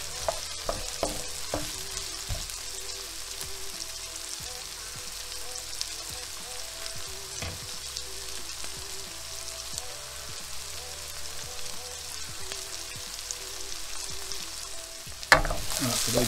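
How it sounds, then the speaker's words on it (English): Ingredients for chicken tikka masala frying in a pan and being stirred with a wooden spoon, a steady crackling sizzle broken by repeated soft knocks and scrapes of the spoon, with a louder clatter near the end. "I'm just going to fry these down for a few minutes."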